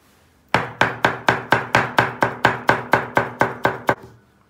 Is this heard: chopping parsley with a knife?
yes